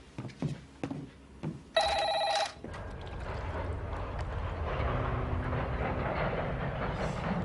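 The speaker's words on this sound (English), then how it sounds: "Why don't you answer the phone?" A telephone bell rings in one loud burst, after scattered soft knocks and clatter, then gives way to a low rumbling background.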